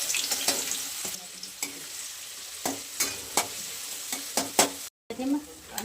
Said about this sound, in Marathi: कांदा टाकून घेऊया